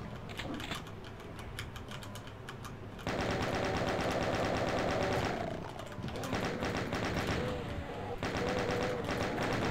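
Rapid, dense bursts of chain gun fire from the video game Doom, continuous and loud across the clip and thickening after the first few seconds, with game sound effects layered underneath.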